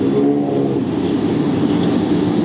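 An aircraft auxiliary power unit runs at JFK airport, giving a steady, loud, broadband turbine roar with no change across the short stretch and no speech.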